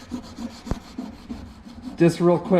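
Old, slightly glossy paint on a 390 engine block is scuffed by hand in quick rhythmic rubbing strokes, close by, with a sharp tap early on and a voice joining near the end.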